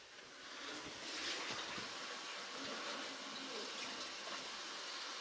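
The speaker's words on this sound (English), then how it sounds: "Go on, wash your hands." Hands rinsed under a running tap after handling raw, bloody meat: a steady, even rush of water hiss that stays constant from start to finish at moderate, close level with no talking.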